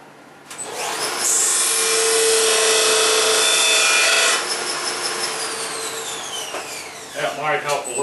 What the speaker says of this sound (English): Let me take that over to the sander real quick and I'll sand that flat